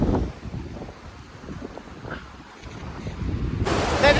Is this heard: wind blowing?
yes